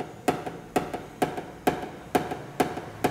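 A hammer tapping out a tensioned dent in a car body panel during paintless dent repair, sharp metallic strikes repeating steadily about twice per second with light rebounds between them over a constant background hum.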